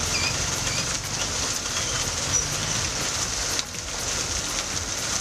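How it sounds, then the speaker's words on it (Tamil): Heavy summer rain in Ooty, a steady broadband hiss of downpour that runs evenly through the whole stretch with a slight dip in level near the end. "உதகை மத்திய பேருந்து நிலையம், மார்க்கெட், தாவரவியல் பூங்கா, காந்தல் உள்ளிட்ட பகுதிகளில் கனமழை பெய்தது."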